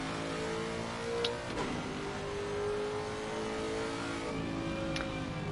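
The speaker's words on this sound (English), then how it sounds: "Just listen to that V8," A Lexus GT3 car with a V8 engine climbs a mountain course in a racing video game, its steady engine drone holding throughout with small rises in pitch, no talk.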